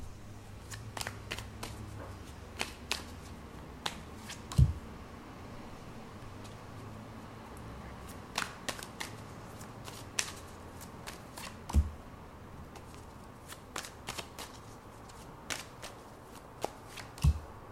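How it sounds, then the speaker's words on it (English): Tarot cards being shuffled in a quiet room, soft repeated riffling clicks scattered irregularly throughout, with a few louder taps. "Wow, all the cards keep flipping."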